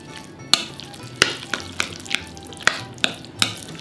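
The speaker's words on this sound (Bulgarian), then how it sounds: "Сега разбъркваме хубаво." Roasted pepper topenitsa spread being stirred in a pan, giving a series of sharp scraping clicks roughly every half second over a soft, steady background, close and fairly quiet.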